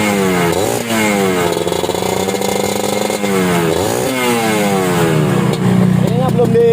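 A Kawasaki Ninja two-stroke motorcycle with a reworked exhaust revs loudly up and down in repeated sweeping bursts, close by and dominating throughout.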